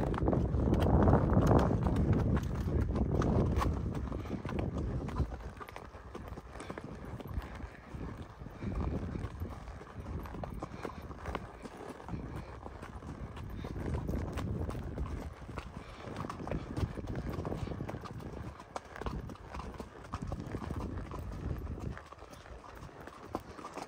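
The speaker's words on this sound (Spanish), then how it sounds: "Pasito, caballito, al pasito." A horse walks outdoors, its hooves clip-clopping in a steady rhythm at close range under gusty wind noise on the microphone.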